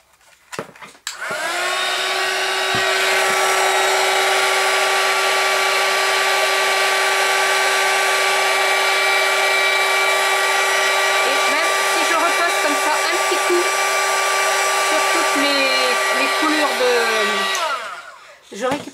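A heat gun warming foil for a silver card runs with a loud, steady whine and airy rush for about sixteen seconds, switching on and winding down at the ends.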